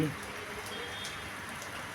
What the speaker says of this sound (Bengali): সারাদিন বৃষ্টি